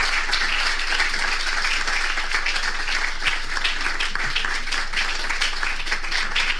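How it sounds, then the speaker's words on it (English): A crowd applauds with sustained, dense clapping that holds steady throughout, fairly loud and close, with no one speaking over it. "Can we make that round of applause more?"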